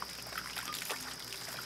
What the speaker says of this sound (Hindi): ये देखो बारिश के पानी से हाथ धोए जा रहे हैं